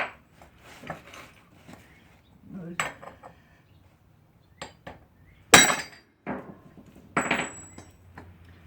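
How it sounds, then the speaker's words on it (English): Sporadic sledgehammer strikes on metal while driving out a front wheel bearing on a 2001-2005 Honda Civic, a handful of sharp clanks at irregular intervals with quiet gaps between, one blow much louder than the rest. "You got to use a sludge hammer."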